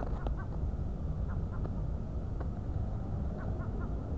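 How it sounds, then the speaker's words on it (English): A seagull calls with several short, scattered cries over a constant low rumble of outdoor background noise. "Where's the seagull? There he is."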